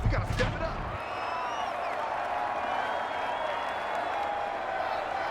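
A loud thump, then a sustained roar of a large stadium crowd in the Madden 21 football video game, steady and distant-sounding, filling the background continuously.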